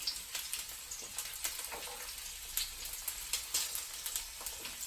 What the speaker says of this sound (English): pan, and they'll start sizzling up